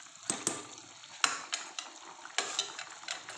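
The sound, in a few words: stirring spicy tamarind curry in pan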